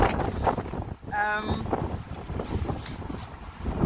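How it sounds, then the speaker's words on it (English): Gusty coastal wind buffets the microphone in low rumbling bursts, with a brief tonal whistle partway through; fairly quiet overall. "Oh, it's windy!"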